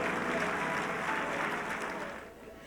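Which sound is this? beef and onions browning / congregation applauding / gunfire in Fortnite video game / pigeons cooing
congregation applauding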